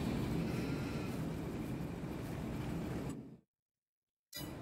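Sheep in the Farming Simulator 22 video game bleat over a steady, faint ambient farm drone that cuts to silence briefly near the end before resuming.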